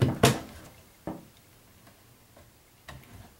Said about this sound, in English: I hear a ticking, but I do not have a clock that ticks in here.